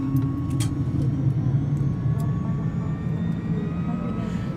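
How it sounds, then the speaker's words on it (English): A Cirrus SF50 jet's small engine starting up in a flight simulator, heard as a steady, even turbine drone with faint rising whine tones throughout, close and continuous. "So one nice thing about these small little engines is this thing actually starts up really quick."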